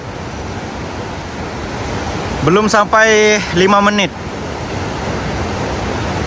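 A flooded river in a forest rushes fast after afternoon rain, a steady loud roar of water throughout, with someone briefly talking over it midway.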